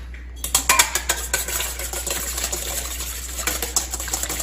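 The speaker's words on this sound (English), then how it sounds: "we're gonna whisk this egg" An egg being whisked in a bowl, with quick rhythmic clinking taps of the whisk against the bowl, fast at first and then settling into a steady, close-up beat.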